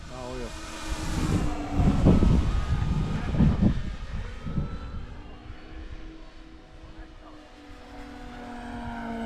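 FMS F7F Tigercat twin-engine model airplane flying at an airfield, its buzzing engines whining with pitch sweeps as it passes, loud then fading, with people talking nearby.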